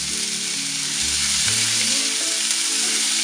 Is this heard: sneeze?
no